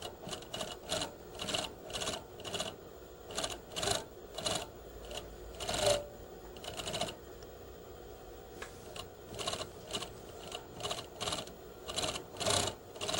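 A sewing machine stitches a waistband onto a gathered skirt just below the gathering row, in a basic sewing lesson from 1982. Rapid stitching comes in repeated close bursts with short pauses between, and no one talks.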